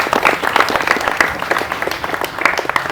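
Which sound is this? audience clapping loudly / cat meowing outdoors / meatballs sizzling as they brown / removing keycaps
audience clapping loudly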